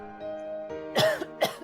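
A person coughs up water after nearly drowning, making a short throat-clearing rasp followed by two harsh, close coughs in quick succession.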